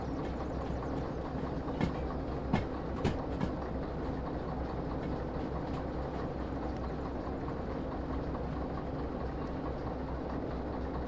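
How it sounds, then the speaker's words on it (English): A train rolling along with a consist of empty freight cars in the Derail Valley simulator, a continuous low rumble with occasional sharp clanks and wheel clicks over the track. "Rolls right along with a consist of empties."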